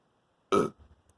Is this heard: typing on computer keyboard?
no